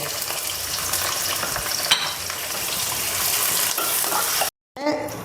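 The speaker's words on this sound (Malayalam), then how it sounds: "ഇതിലേക്ക് നമുക്ക് സവാള ഇട്ട് കൊടുക്കാം സവാള ഒന്ന് വാടട്ടെ" Sliced onions frying in a hot pan, a loud continuous sizzle with stirring scrapes, briefly cut by a moment of silence near the end before the sizzle resumes.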